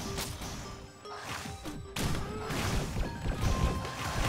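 Bursts of firework explosions from the video game Risk of Rain Returns, a cluster of crashing, thudding blasts with a bigger hit near the midpoint, then more continuous loud crackling and booms layered over game music.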